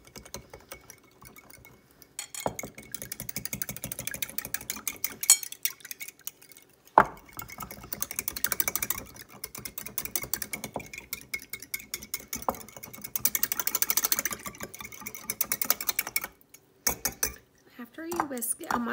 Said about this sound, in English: Whisk it really good.